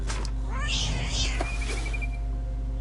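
A cat meows in the video game What Remains of Edith Finch, one rising drawn-out call followed by a thin high tone over a steady low background hum.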